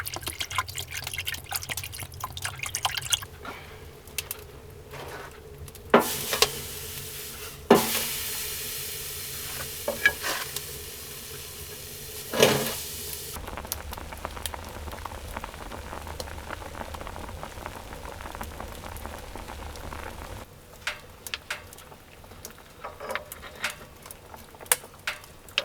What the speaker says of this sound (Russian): Просто отварю рыбу в сковородочке на печке